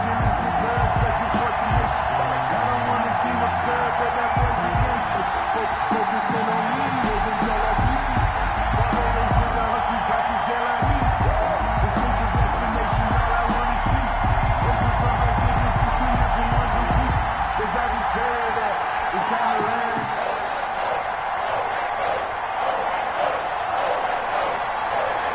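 Simulated stadium crowd roaring steadily in an EA Sports football game, New York Jets against New England Patriots, a continuous loud wash of cheering with low rumble under commentary-style talk.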